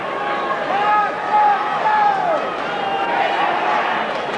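A stadium crowd at the SCG roars in support of Sydney during a 1991 AFL match against Essendon, a broad swelling cheer heard under a commentator's voice.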